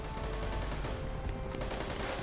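Rapid in-game gunfire from Devil's Third, a dense continuous burst of bullets with booming low end, loud and steady throughout with no talking.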